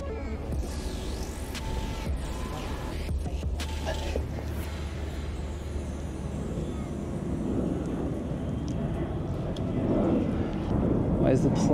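An airplane passes overhead during an outdoor motorcycle film shoot, a broad, low rumble that swells gradually and grows loudest near the end over steady background noise.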